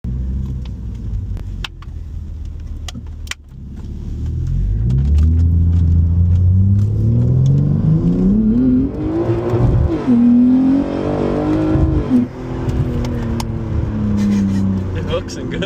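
BMW G80 M3 accelerating hard, its engine note climbing and swelling into a loud, sustained roar with a brief dip near the middle, heard from inside the car with talk over it.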